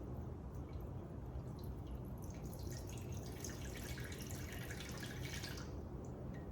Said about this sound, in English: I'm putting the water inside the bottom of this container